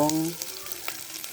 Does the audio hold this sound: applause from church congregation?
no